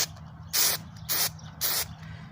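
3M headliner adhesive sprays from a can for a Ford Taurus headliner repair, three evenly spaced, sharp hissing bursts, close and loud, each lasting about a quarter second, over a quiet low hum.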